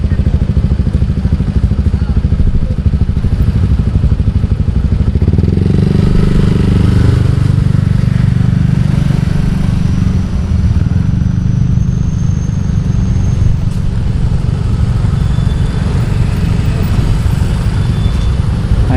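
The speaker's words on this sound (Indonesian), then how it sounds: "pemandangan kalau weekend di jalur puncak 2. Motor, mobil ramai." Weekend traffic of motorcycles and cars on the Puncak 2 mountain road in Sukamakmur, Indonesia, makes a loud, continuous engine rumble with clattering. It stays close and heavy throughout, with no break.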